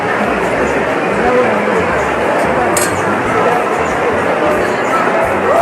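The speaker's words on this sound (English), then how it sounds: "Just see the crowd, it's overcrowded." Dense Mumbai street crowd heard as a steady, loud wash of overlapping voices and bustle, with a brief clink partway through.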